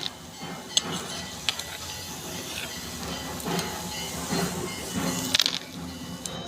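Bottle gourd peel fries in hot oil with a continuous close hiss and scattered sharp crackles and pops, steady throughout without talk.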